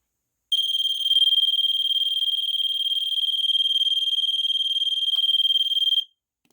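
TravelSafe 3402-00 portable smoke detector alarm sounding a loud, piercing continuous high-pitched tone that runs steadily for about five and a half seconds, then cuts off abruptly.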